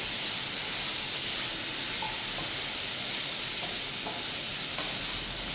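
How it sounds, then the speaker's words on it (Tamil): Ingredients sautéing in a pan, cooked until the raw smell goes: a steady close sizzle and hiss with occasional soft stirring scrapes, continuous throughout and no talking. "இது நல்லா வதங்கட்டும்"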